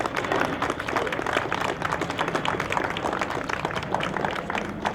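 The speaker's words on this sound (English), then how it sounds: "if we could just give them a quick round of applause" A crowd at the Atlantic Street Park ribbon-cutting ceremony in Hackensack, New Jersey gives a round of applause, loud, dense clapping from many hands that holds steady throughout.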